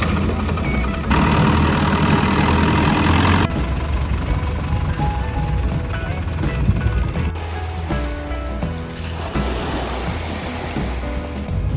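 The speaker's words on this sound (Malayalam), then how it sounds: "ഞങ്ങൾ വീണ്ടും ഒരു ലോങ് ടൈൽ ബോട്ട് കയറി." Longtail boat engine running at sea, a loud low drone with water splashing and wind buffeting the microphone throughout, no speech.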